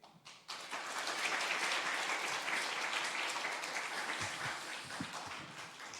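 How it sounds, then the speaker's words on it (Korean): Congregation applauding loudly to welcome a pastor at a Sunday afternoon church worship service, a steady dense wash of clapping that swells in after a brief pause and continues unbroken to the end. "목사님 나오실 때 우리 크게 박수로 우리 환영하겠습니다."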